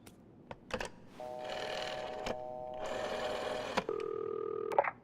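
A telephone rings during a call to the police in the video game This Bed We Made, with two electronic ring bursts and a tone, mixed with clicks and mechanical clatter, fairly faint, with no voices.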